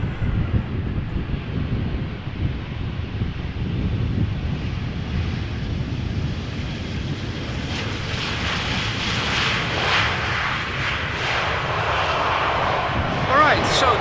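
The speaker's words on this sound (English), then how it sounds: "this has been EasyJet flight 21221" An EasyJet passenger jet at Amsterdam Schiphol rumbles steadily with a broad engine roar that grows in the second half, while people talk nearby and wind brushes the microphone.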